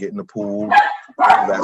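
A dog barks indoors after a knock at the door, a couple of loud close yips and woofs mixed in with a person talking over them.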